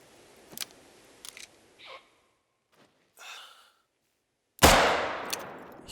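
A single loud hunting rifle shot in theHunter Call of the Wild rings out near the end after a few faint breaths and rustles, its sharp crack trailing into a brief echoing decay.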